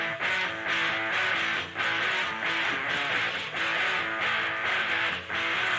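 Three real electric guitars recorded and spread left, right and center play a dense, sustained chordal riff together, loud and continuous with brief rhythmic dips every half second or so.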